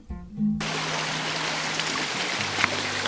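Rushing water of the Shirlak waterfall in the Altai, a steady broadband roar heard up close, with a low droning hum underneath and no voices.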